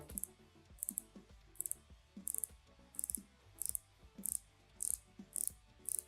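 Seiko Pelagos dive watch bezel being turned, giving a steady train of crisp, quiet ratcheting clicks in small bursts, close up with no talking.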